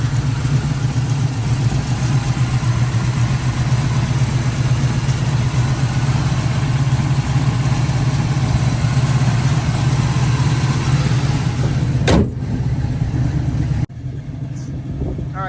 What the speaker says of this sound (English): It's got a nice little sound as well with the headers and dual exhaust.